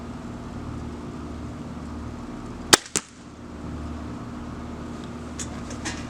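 A Center Point Sniper Elite Whisper 370 crossbow fires a bolt, giving a sharp loud snap followed quickly by a second thump, then steady background hum.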